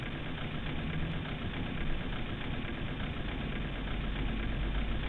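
A Boeing 737-700 engine spools up in a flight simulator, a steady dense broadband roar with a low rumbling base that holds evenly throughout, alone without talk.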